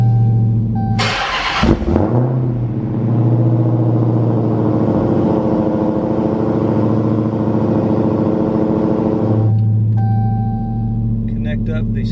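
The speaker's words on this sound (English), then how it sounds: "We'll fire the car up." A car engine cranks and fires after tuning with HPTuners MPVI2 in a garage, catching with a loud burst, then holding a steady, close, droning idle for several seconds before settling lower.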